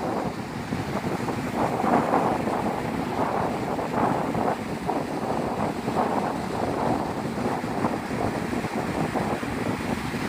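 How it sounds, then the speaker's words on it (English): Waves and wind on the shore at Navarre Beach, Florida, a steady broadband wash of surf with gusting wind buffeting the microphone, continuous and fairly loud with no voices. "This is Navarre Beach, Florida."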